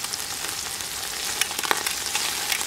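Beef pieces for a dark-beer goulash searing in a hot pan, a dense, even crackling sizzle with scattered sharper pops, heard close and without any voices.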